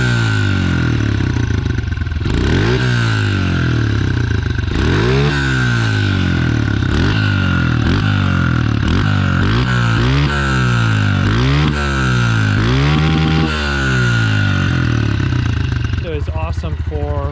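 Honda CRF125 trail motorcycle engine running close by, idling with repeated throttle blips that rise and fall in pitch, a loud, steady mechanical drone.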